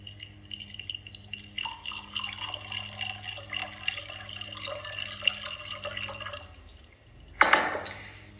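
Cold Kangen 9.5 water is poured over a tea bag in a glass, a soft steady trickle that runs for several seconds, stops, then gives way to a brief louder splash near the end.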